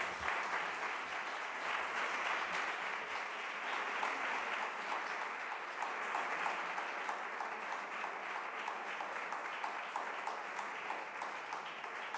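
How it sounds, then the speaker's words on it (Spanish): A large audience gives actress Lola Herrera a long, sustained round of applause, a dense, even wash of clapping heard from within the hall that keeps going for over twelve seconds. "yo pido, antes de nada, un aplauso inmenso para ella"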